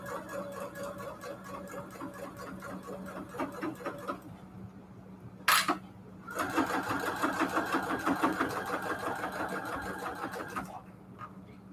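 Sewing machine running in steady bursts while back stitching a sewing machine mat, the motor whirring with a rapid needle rhythm, pausing briefly before starting again, close and fairly loud.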